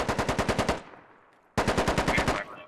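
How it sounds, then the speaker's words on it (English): Two rapid bursts of automatic gunfire from the military shooter Squad, each a tight string of about eight evenly spaced shots, separated by a brief pause with a fading tail. "Silas taking some shots here."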